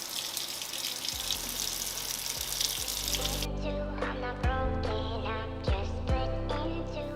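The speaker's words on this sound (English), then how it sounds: "I'm gonna run some hot water on it just to kind of loosen up the glue underneath." Hot water from a kitchen tap runs onto a glass jar, a steady rushing hiss that turns into a fuller splashing drum with small knocks as the jar shifts under the stream, close and alone.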